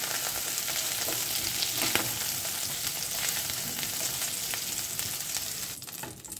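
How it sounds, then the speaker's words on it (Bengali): Soybean chunks frying in oil in a pan, with a steady, even sizzle and crackle close by throughout, no talking, fading slightly at the end. "সয়াবিনগুলো লাল লাল করে ভেজে তুলে নেব।"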